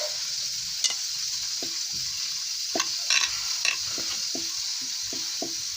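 Potato paratha filling being mixed with egg, giving a bright hissing wash and a series of quick scraping and tapping strokes from the spoon, close up, with no speech.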